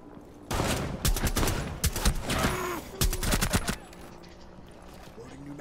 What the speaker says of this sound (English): And I'm being shot at from someone.